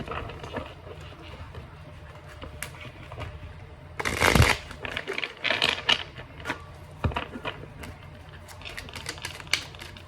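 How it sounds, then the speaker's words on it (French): Tarot cards being shuffled and laid out on a table, a string of soft papery slaps and flicks with one louder burst of riffling, close and quiet with no talk. "je pense que je vais mettre genre plein de cartes sur la table"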